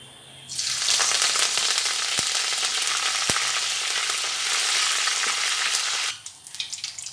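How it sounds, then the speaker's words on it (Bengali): Curry leaves fry in hot oil for a semolina upma, giving a loud, steady sizzle that starts abruptly and cuts off near the end, with a couple of sharp utensil clicks partway through. "এই কারি পাতাগুলো একটু তেলের মধ্যে দিয়ে তুলে নেব"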